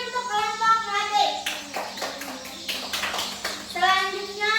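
Classroom clapping for the Melati student group, a short burst of hand claps in the middle, with a voice and children's chatter before and after.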